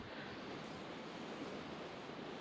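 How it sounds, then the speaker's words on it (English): A river flows as a soft, steady, continuous wash of water noise, faint and distant, with no other sounds over it. "we have the sounds of the river in the background"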